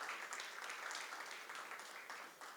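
Steady applause from an audience at a corporate awards event, many hands clapping at a fairly even rate, heard at a moderate distance and continuing throughout with no talking.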